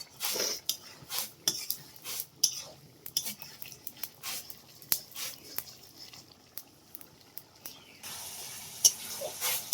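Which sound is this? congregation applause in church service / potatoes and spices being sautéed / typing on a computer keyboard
potatoes and spices being sautéed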